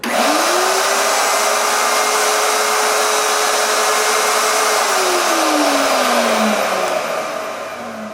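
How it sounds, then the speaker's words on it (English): A small router table whines steadily as it trues the edges of a twelve-string guitar body, a loud continuous motor tone that holds level and then drops away as it spins down toward the end. "with my trusty little router table, truing up all the edges so they're all parallel to each other"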